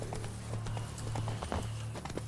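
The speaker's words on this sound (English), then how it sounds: "Okay, horse is fleeing." A fleeing horse gallops in The Witcher 3, its hooves beating in a steady rhythm over a low ambient hum.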